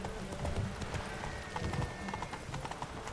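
Roach, the horse in The Witcher 3, gallops at speed, hooves clattering in a quick steady clip-clop rhythm over a busy background of game ambience.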